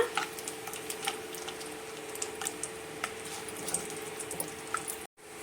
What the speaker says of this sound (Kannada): ಗೋಡಂಬಿ ಮತ್ತು ಪಿಸ್ತಾ ಹಾಕ್ಕೊಂಡು ಸ್ವಲ್ಪ ಹೊತ್ತು ಫ್ರೈ ಮಾಡ್ಕೊಳ್ಳೋಣ